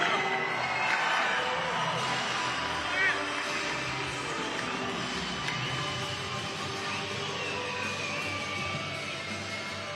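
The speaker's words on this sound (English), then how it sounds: "you have one of the loudest cheering sections" Large crowd at the 2022 Bassmaster Classic Day 3 weigh-in, Lake Hartwell, cheering and whooping for angler Matt Airy, a steady roar of voices with shouts rising over it for the full length.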